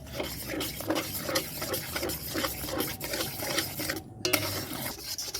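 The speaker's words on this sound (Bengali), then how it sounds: "এবারে আমি অল্প অল্প করে দুধ দেব, দিয়ে আমি গুলতে থাকবো।" Milk stirred little by little into warm water in a pot, a steady scraping and swishing close up with faint liquid movement, soft and continuous with no talk.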